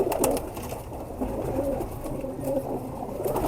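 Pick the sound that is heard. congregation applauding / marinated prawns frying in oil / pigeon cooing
pigeon cooing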